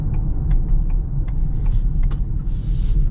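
A 2024 Ford Explorer XLT with a 2.3-liter engine pulls steadily from inside the cabin, a continuous low rumble and drone with faint ticking and clicks over the top.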